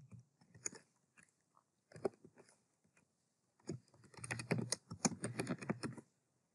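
Bursts of quick, crisp key clicks on a computer keyboard as code is typed, close and fairly quiet, in short clusters separated by pauses, with a longer flurry near the end.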